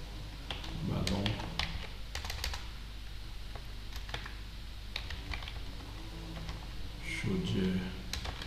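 Keys on a computer keyboard clatter in irregular bursts of quick taps, fairly close, while someone speaks French over much of the typing.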